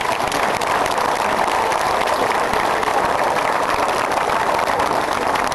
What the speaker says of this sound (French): je vous demande véritablement de les applaudir encore une fois pour les remercier